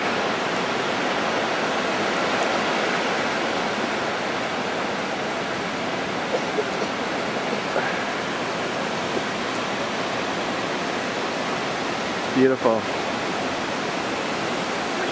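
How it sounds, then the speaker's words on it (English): A waterfall near Seattle gives a steady broadband roar throughout, heard from a rocky spot below after a hike. A voice speaks briefly near the end over the constant rush. "The waterfall? It's beautiful, isn't it? It's amazing."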